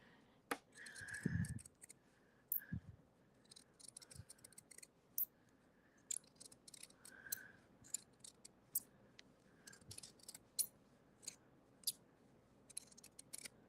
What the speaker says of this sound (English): It sounds like my scissors need a little bit of lubrication.